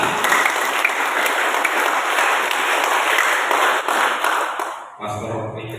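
Sustained applause from an audience welcoming a pastor at a church plenary meeting in the Archdiocese of Medan, dense and steady clapping that fades out near the end into a quieter room.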